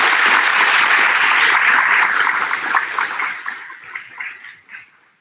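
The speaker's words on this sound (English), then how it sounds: "Round of applause." Audience applause at a high school senior awards ceremony, a loud, dense wash of clapping from a large crowd that gradually thins and fades away to scattered claps.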